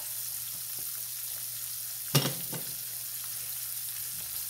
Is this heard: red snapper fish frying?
yes